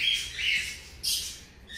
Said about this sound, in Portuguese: O Pipoquinha é um periquito australiano, ela é fêmea